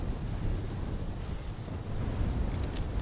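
A thunderstorm in the Call of Duty: Black Ops III video game, heard as a steady, heavy rumble of wind and rain with low thunder, dense and continuous throughout, with no speech.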